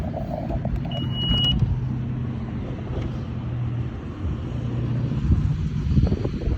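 Cars idle and move around an outdoor parking lot, a steady low rumble of engines with wind buffeting the microphone and a brief high tone early on.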